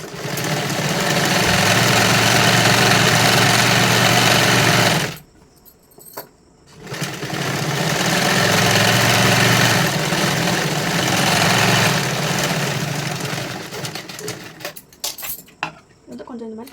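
A sewing machine stitches a 44-size katori blouse, running in a steady loud whir broken by a short pause near the middle, then starting again with small clinks toward the end while someone speaks.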